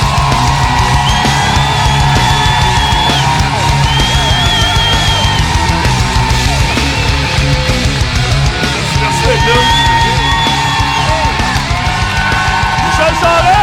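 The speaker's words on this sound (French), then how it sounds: "J'aimerais ça qu'on commence à l'applaudir, s'il vous plaît, pour Michel Charette!" A studio audience applauds and cheers for Michel Charette, with steady, dense clapping and scattered yells and whoops that hold loud throughout.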